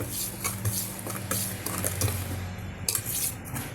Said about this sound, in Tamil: நல்லா ஒரு முறை மிக்ஸ் பண்ணி விட்டுக்குங்க இந்த சக்கரை முழுமையாக கரைட்டோம்